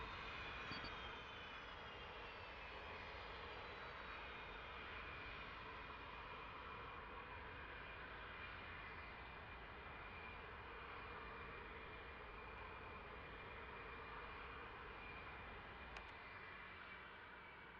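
A Mirage 2000C jet engine in DCS World gives off a steady whine and hum at shutdown, fairly faint and constant, with a high tone slowly falling away.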